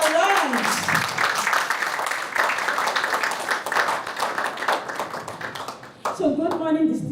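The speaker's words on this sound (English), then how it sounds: "So a round of applause as we start the Avibella lunch." An audience at a corporate lunch event gives a round of applause, steady dense clapping for about six seconds, with a voice speaking just before and after.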